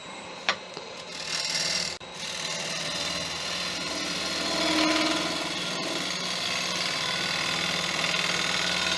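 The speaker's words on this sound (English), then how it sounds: "now I'm going to start going to a pull cut here" A Crown Crio gouge making a pull cut on a wooden bowl spinning on a lathe, a steady rubbing hiss of tool on wood over a constant motor hum, close and continuous.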